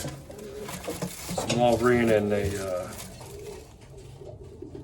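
Domestic racing pigeons in a breeding loft give a soft rolling coo close by, with low bird murmurs around it and someone talking.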